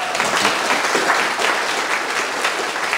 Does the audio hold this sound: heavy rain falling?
no